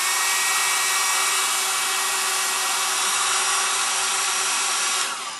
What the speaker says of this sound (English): take your handy little blow dryer and blow dry them